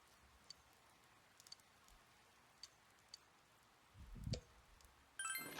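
Soft, steady rain patters in the video game Persona 4 Golden, with scattered light ticks and a couple of brief louder rustles toward the end.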